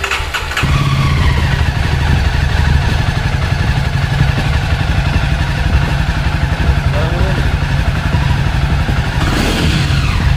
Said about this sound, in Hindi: तो कुछ इस तरह का साउंड करती है मोटरसाइकिल, और काफ़ी सूटिंग साउंड करती है।